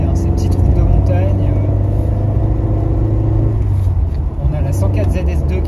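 A 1981 Talbot Sunbeam Lotus rally car drives hard along narrow mountain roads, its engine droning loud and steady from inside the cabin throughout.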